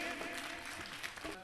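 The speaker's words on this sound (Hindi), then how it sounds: "एक बार जोरदार तालियां बजाओ डॉक्टर कमलेश बसंत के लिए।" Applause from an audience at a Jain Panchkalyanak stage ceremony swells as a dense patter of clapping, with a voice partly audible over it for a brief moment.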